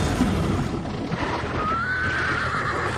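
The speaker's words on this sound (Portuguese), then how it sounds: "O velho surge num cavalo" Horse neighing in a film scene where an old man in a cowboy hat appears riding a flaming horse: a loud whinny rising partway through, over steady clip-clopping hooves and a dense action soundtrack.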